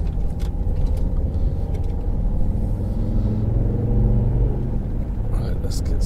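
A car accelerates on a dual carriageway, with a steady, loud engine and road rumble building throughout, while a person talks over it.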